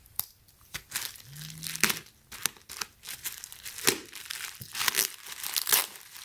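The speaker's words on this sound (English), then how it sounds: "So they wrap it in a bubble wrap, which is nice." Plastic bubble wrap being pulled off and unwrapped from a Samsung J7 Crown smartphone box, giving irregular crinkling and tearing bursts at close range with no talking.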